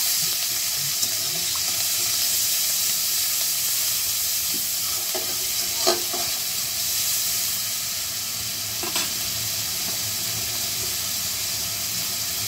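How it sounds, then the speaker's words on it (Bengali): Onion paste fries in oil in a pan, cooking down for a hilsa fish and green banana curry, giving a steady hiss with a few soft scrapes of stirring. "তেলের উপর পেঁয়াজ বাটাটা কিছুক্ষণ কষিয়ে নিয়েছি"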